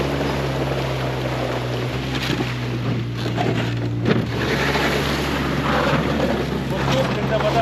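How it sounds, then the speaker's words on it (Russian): A 700cc four-stroke Suzuki engine with automatic transmission hums steadily under strong wind buffeting and water rush on a boat or amphibious craft during a spring duck hunt in Yakutia, a continuous low drone with no talk. "Только урчит мотор нашего танчика."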